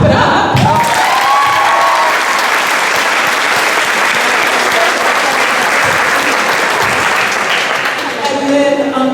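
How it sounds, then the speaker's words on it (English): Sustained, loud audience applause fills a high school end-of-year all-sports celebration, steady for about nine seconds with a little crowd noise and cheering mixed in, tapering briefly near the end. "Clap it up."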